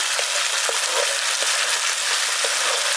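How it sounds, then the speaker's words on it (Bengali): Ginger paste and tomato paste masala sizzle and fry in a pan, a steady bright hiss broken by soft, regular stirring scrapes. "আদা বাটা টমেটো বাটাটা দিয়ে দেওয়ার পর এটাকে খুব ভালো করে কষিয়ে নিয়েছি"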